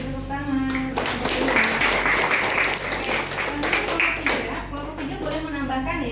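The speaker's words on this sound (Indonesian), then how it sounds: "Oke, beri tepuk tangan." Classroom group applause during an Indonesian lecturer's teaching session, uneven clapping from a modest crowd that swells in the middle, with a voice and some tonal sound present under it at the start and end.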